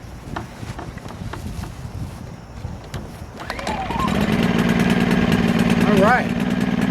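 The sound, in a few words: WEN 2000 inverter generator being pull-started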